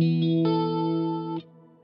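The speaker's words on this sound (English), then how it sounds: "all you're hearing is the reverb" Electric guitar notes ring out with a wash of Andromeda reverb from an Axe-Fx-style modeler, a few sustained chords blooming and fading into a soft tail, no repeating echoes.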